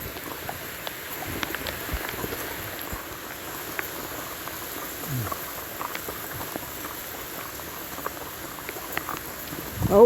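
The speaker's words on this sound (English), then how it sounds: "this is the first one we've got caught in the rain like this" Light rain pattering around riders on horseback at Gettysburg battlefield, a soft continuous patter of scattered drops with faint background rustle, no talk heard.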